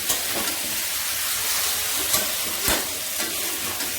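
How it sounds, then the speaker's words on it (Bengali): A pan of fried spice masala with chicken pieces being stirred in, for Bengali-style chicken kosha; steady close sizzling with a few sharp scraping strokes, no voices. "এখন চিকেনটাকে ভালো করে নাড়াচাড়া করে দেবো"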